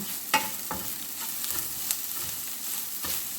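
Cumin and coriander powder being stirred into a frying egg and onion-stalk mixture in a pan, a steady sizzle broken by several scraping strokes of the spoon, close and clear with no talk.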